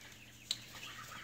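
A single faint, high baby chick peep in a brooder over a quiet background hum, followed by soft scattered chirps.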